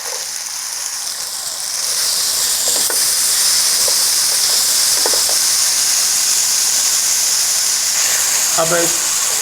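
Urad dal (daal mash) frying in a hot pan, a steady loud sizzle and hiss that swells after the first couple of seconds and holds, with a few faint clicks and brief tonal sounds near the end.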